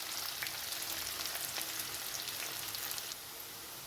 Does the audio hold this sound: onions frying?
yes